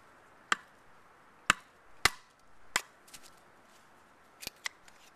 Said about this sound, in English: we're going to try to baton that out to the stop cut,